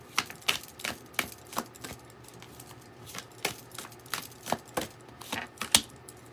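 Oracle cards shuffled by hand in a steady run of crisp riffling bursts, about a dozen sharp slaps spaced roughly half a second apart, close and clear against a quiet background.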